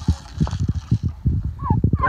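Turkeys on a farm gobble in a rapid, rhythmic burst of throaty calls, close and fairly loud, with a few higher notes near the end.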